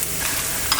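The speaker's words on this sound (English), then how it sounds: "We're frying the red dried chili peppers in" Red dried chili peppers fry in a pan, giving a steady, close, dense sizzle with no voices.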